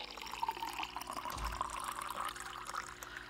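Water pouring in the video game Barista Simulator, a continuous liquid gurgle and trickle with a brief low thump midway, steady over a faint hum.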